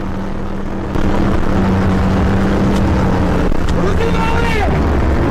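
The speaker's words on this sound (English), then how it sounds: "We now hear the tank revving up." A heavy tank engine rumbles and revs up, a low growling drone that jumps in loudness partway through and holds steady, with clanking and shouting underneath.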